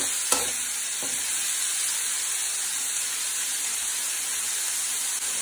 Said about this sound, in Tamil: இப்போ இதை நல்லா சாட்டே பண்ணிக்கலாம்